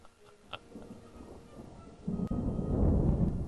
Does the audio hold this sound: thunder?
yes